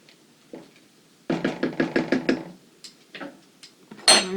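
A spoon beating apple cider vinegar into a bowl of vegan cream of celery soup ingredients, with a quick run of about eight close, evenly spaced knocks against the bowl, then a few scattered taps.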